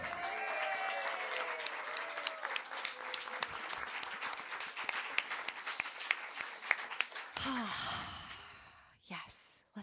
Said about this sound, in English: can we have a round of applause for like live music being back?